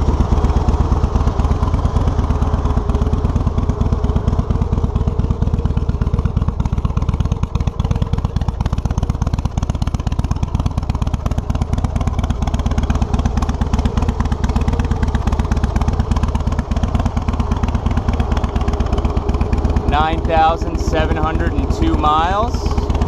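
A 2005 Harley-Davidson Fat Boy motorcycle engine runs steadily and close, with a low continuous rumble and a mechanical clatter throughout, and a voice briefly heard near the end.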